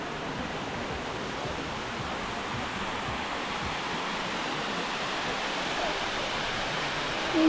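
Waterfall in Jermuk, Armenia, a steady broadband rush of falling water filling the scene at constant loudness, close by and uninterrupted, with no voices over it.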